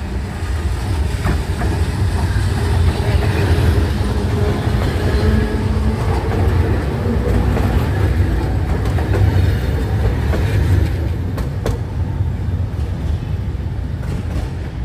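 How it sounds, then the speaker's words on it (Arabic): An Alexandria tram, line one, pulling out of Cleopatra Hammamat station toward Sidi Gaber, with a steady loud rumble of rail wheels and car body, faint clicks and squeals over the track, continuous and close for the whole stretch. "رقم واحد خارج من محطة ترماي كليوباترا حمامات اتجاه محطة ترماي سيدي جابر الشيخ"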